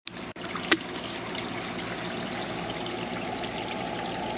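Water poured from a bottle onto a cactus outdoors, a steady trickling stream running evenly for several seconds after a brief knock at the start, with no talk.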